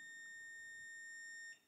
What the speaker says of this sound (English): you're gonna hear a long beep and see a green flash here on the keypad